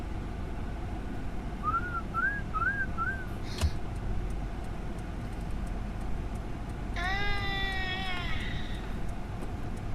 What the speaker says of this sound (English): He's whistling right now.